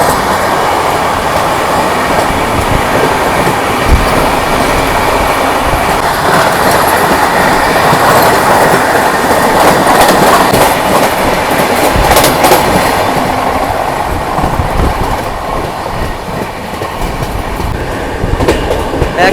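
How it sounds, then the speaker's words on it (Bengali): A local train on an Indian rail line runs steadily while the Vande Bharat Express overtakes it, giving a loud, continuous rumble and clickety-clack of wheels on track throughout, with no talk. "বন্দে ভারত এক্সপ্রেস আমাদের ওভারটেক দিয়ে দেবে।"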